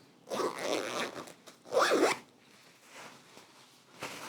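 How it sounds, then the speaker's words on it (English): A zipper is pulled closed on a VACOped orthopedic walking boot, two short rasping runs with a brief pause between them, close and fairly quiet. "Through again, then finishing zip it."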